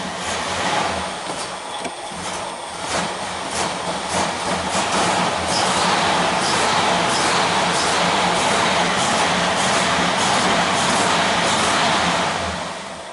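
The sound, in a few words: 1978 Mercury Marquis engine revving or dying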